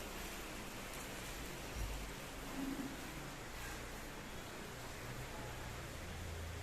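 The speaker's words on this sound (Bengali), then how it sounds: "রাত্রি থেকে শুরু হয়েছে প্রচণ্ড বৃষ্টি হচ্ছে এই দেখো কালকে তো রাত্রিবেলায় প্রচণ্ড ঝড়ও হচ্ছিল তো আজকে ভালোই বৃষ্টি হচ্ছে" Heavy rain after a stormy night makes a steady, even hiss that continues unbroken and fairly soft throughout.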